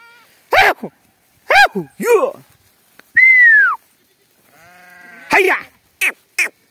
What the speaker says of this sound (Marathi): बघा हे आपले मेंढरं आज आलेले आहेत नाल्यामध्ये चरायला